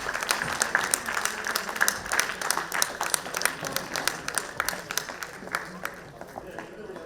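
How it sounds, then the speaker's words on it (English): An audience claps in a sustained round of applause for women entrepreneurs at an International Women's Entrepreneurship Day event, the dense patter of many hands filling the room and tapering off toward the end. "Let's give them all another big round of applause"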